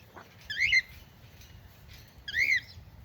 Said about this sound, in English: Happy bird.